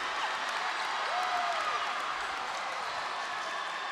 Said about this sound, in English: Even the Mechanicsburg crowd clapping on that one